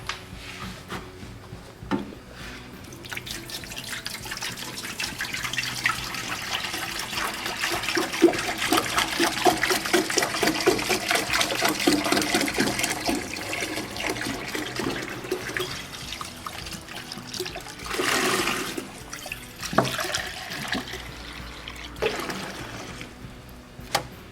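Water runs steadily into an ultrasonic cleaner, one gallon being added for a soap-and-water cleaning solution; a continuous splashing pour swells and fades over about twenty seconds, with a brief pause and a final burst near the end.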